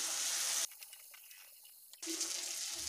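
Fried fish heads and fish pieces go into a hot pan for murighonto, with a loud hissing sizzle that drops away briefly to near quiet before the sizzle surges back.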